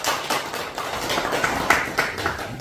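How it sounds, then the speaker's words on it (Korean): Audience at a Korean lecture event on urban commons in Incheon clapping to welcome a speaker, a dense steady wash of applause throughout, fairly loud and close, no voices. "여러분 박수로 환영 부탁드립니다."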